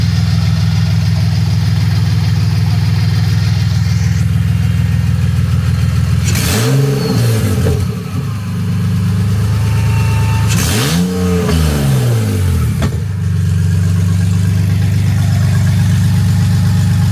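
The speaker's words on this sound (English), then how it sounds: "Basically just confirming the motor is good, which as you can tell, it seems to be running on all six" A Buick six-cylinder engine on open headers runs loud and steady at idle, with two sharp revs rising and falling, each flaring over a second or two. It stays close throughout with no talking.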